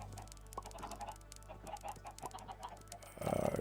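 Chickens cluck and murmur in a Minecraft farm area with pigs and llamas nearby, soft repeated clucks at low level, ending with a louder burst.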